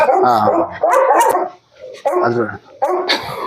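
Several dogs bark and yip from cages at a dog kennel in bursts a short distance away, with pauses between volleys.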